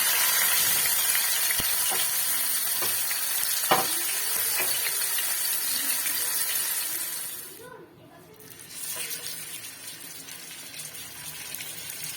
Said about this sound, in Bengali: এবার আমি বোয়াল মাছগুলোকে ভেজে নেব।